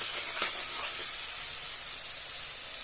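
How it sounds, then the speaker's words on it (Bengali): Spice paste frying in a pan for a Bengali bhola fish curry with coriander, a steady close sizzle and hiss throughout with faint stirring scrapes, no talking. "শুধু ভালো করে ভেজে নেব মশলাটা"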